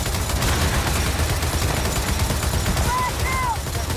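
Sustained mounted turret fire in the video game Gears of War 4, a dense continuous roar of rapid shots with a couple of short whistling tones near the end.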